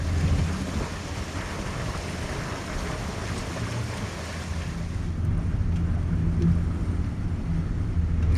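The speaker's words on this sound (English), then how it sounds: "It is a really windy day." Strong wind blows across the water beside a shanty boat near Lake Okeechobee, Florida, a continuous loud rumbling roar of gusts buffeting the microphone with surf-like wash and no voices.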